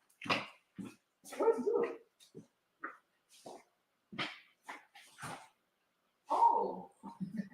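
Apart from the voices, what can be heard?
dog crying and whimpering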